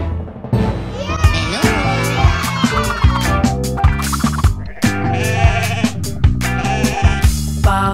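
Sheep bleating over a bouncy children's nursery rhyme tune, several short wavering bleats repeating in rhythm through the music, loud and close.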